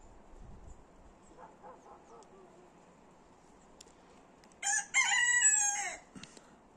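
Chickens stuck out in the snow cluck softly, then a rooster lets out one loud, close crow that carries for over a second before fading back to quiet clucking.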